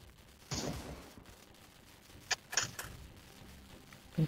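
Gunfire in the video game Sniper Zombies: a burst of shots followed by a few sharp sniper cracks, moderately loud over a quiet game ambience.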